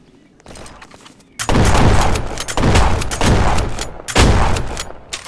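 Loud gunfire in Roblox Jailbreak crackles in several heavy bursts close up, separated by brief pauses, with a faint voice early on.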